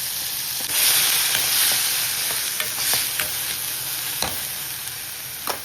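Cumin, onion paste, garlic and chili paste fry in hot oil with a steady, fairly loud sizzle, broken by scattered clinks and scrapes of stirring; no voices.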